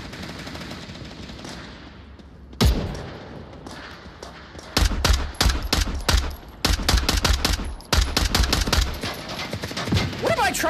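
Gunfire in the VR shooter game Onward: after a single sharp shot, rapid automatic bursts and scattered shots crackle loudly for several seconds, with voices talking underneath.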